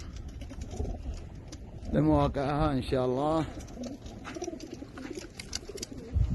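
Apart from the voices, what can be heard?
racing pigeons cooing before release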